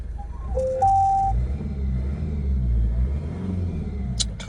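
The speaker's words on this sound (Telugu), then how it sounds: "టొయోటా ఇంజన్, సూపర్ ఇంజన్ ఇది." A Toyota Auris with a 2-litre engine runs close by with a low, steady rumble that rises slightly in a mild rev, with a few brief clicks near the end and no talking.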